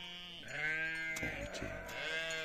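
A single sheep bleats loudly and close by, a long wavering, nasal cry lasting a couple of seconds with no voices around it.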